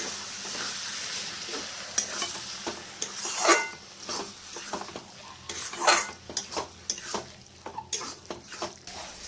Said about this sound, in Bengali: মুগের ডাল ভেজে আর একটুখানি মুসুর ডাল দিয়েছিলাম সেটা ঢেলে দিচ্ছি